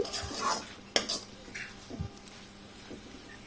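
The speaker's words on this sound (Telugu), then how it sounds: "రెండు మూడు నిమిషాలు వేయించుకున్న తర్వాత ఇందులోనే కొద్దిగా అల్లం వెల్లుల్లి పేస్ట్ని కూడా అందులో వేసుకోవాలండి" Sliced okra frying in a pan with onion and spices, stirred with a metal spoon that scrapes and clinks against the pan over a soft background sizzle, close up and fairly quiet.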